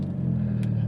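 A manual car's engine hums steadily and loudly at low pitch as the driver pulls away after a stall, a continuous close rumble with a brief faint hiss partway through.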